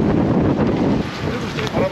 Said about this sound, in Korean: 바람 좋아요.